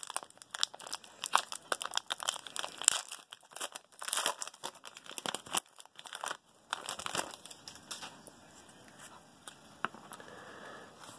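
A 2018 Panini football trading card pack is torn open, its cellophane wrapper crinkling and ripping loudly and close up in dense, irregular bursts that thin out toward the end.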